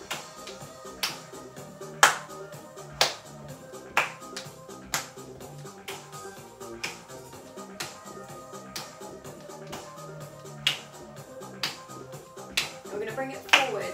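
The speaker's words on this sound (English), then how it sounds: "We're going to add a small clap." Small claps keeping time during a step-tap dance workout, light regular snaps about once a second under music and an instructor's voice.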